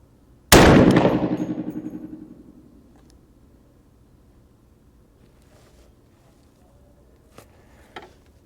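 A single loud, close rifle shot from a 350 Legend outdoors, a sharp crack followed by a long rolling decay that fades over about two seconds, then quiet with a couple of faint clicks.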